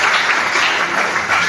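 A church congregation claps together during a service, giving a dense, steady applause that fills the whole short moment.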